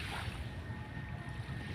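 Sea water and waves at a beach, a steady, dense wash of surf and rushing water close by with no voices.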